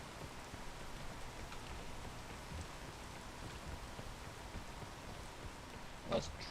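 Rain falls in a video game as a soft, steady hiss of drops, fairly faint and even throughout, with one brief louder tap near the end.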